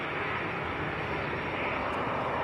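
A Ryanair airliner from Dublin on final approach at Leeds Bradford Airport, a steady, fairly faint distant jet rumble with no change over a couple of seconds.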